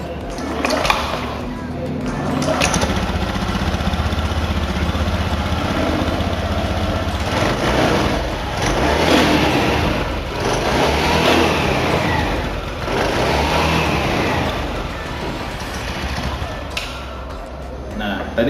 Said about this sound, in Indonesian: Saya mungkin hidupin aja motor.